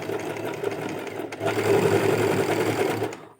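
An overlock sewing machine runs a trial stitch on fabric. A quieter, uneven whirr at the start builds into a loud, steady, rapid mechanical chatter that lasts about two seconds and then cuts off.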